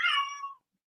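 One short, clear cat meow indoors, rising and trailing off within about half a second, alone and close by.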